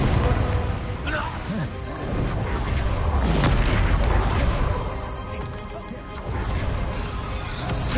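Spell explosions from the Bombarda and Confringo curses in Hogwarts Legacy, a dense run of booming crashes and blasts layered over busy game sound, with a voice talking over the action.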